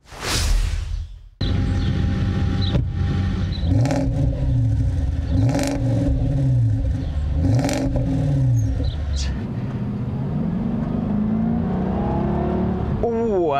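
A Jaguar XK X150 engine revs repeatedly in a rhythmic series of rising and falling blips, loud and close, after a brief burst of startup noise, then settles to a steady idle.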